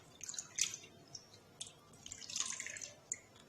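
Tap water splashing and dripping at a sink while scrub is rinsed off hands, faint, irregular bursts of trickling and spatter over quiet background.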